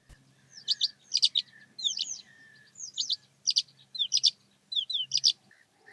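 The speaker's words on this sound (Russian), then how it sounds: "Степной жаворонок бесконечными песнями обозначает свой дом." Calandra lark singing, a run of bright chirping phrases in quick bursts repeated across the stretch, clear and fairly near over a quiet low hum, no voices.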